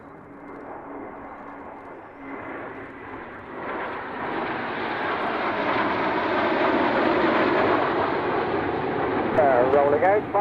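Aircraft engines swell into a steady broadband roar as a plane rolls out, building gradually and staying loud to the end, with a faint voice over it.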